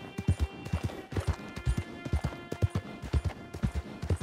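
A horse's hooves in the video game Red Dead Redemption 2 clip-clop in a steady, even gait. The hoofbeats are close and distinct and continue throughout without talk, with a faint background hum.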